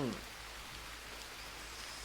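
Steady rain falls in the Green Hell video game, a constant soft hiss of drops spread evenly across the whole stretch with no other sounds standing out.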